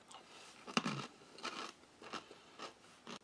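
Crunchy Turkish MRE ration food chewed close up, several separate crisp bites and crunches spread over a few seconds, fairly quiet with no talk.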